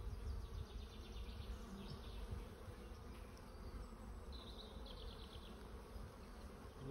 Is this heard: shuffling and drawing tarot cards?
no